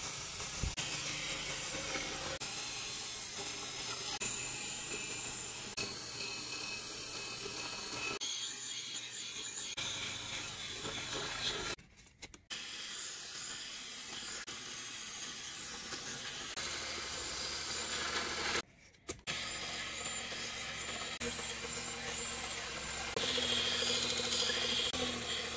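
Metal bottle opener being sharpened to razor sharpness on a stone, a steady hissing, rasping scrape that runs continuously for long stretches and is broken by two brief silent gaps, with no voices.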